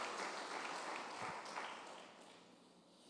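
A church congregation claps softly and at some distance, a brief scattered patter of hands that thins out and dies down.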